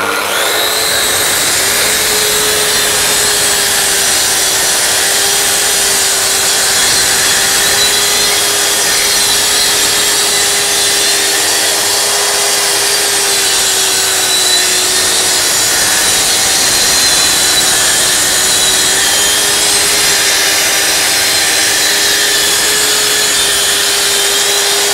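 Plunge saw cutting through wood in a workshop, a loud steady whine that holds at one pitch for a long continuous cut, with no talking.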